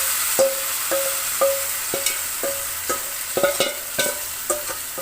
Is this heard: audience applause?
no